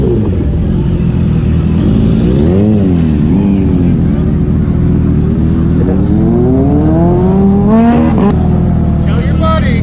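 A motorcycle engine revs repeatedly, its pitch sweeping up and down over a steady roar of traffic and wind, then climbing hard near the end.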